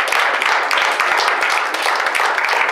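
A church congregation applauding during a service, a steady, loud wash of many hands clapping close by throughout.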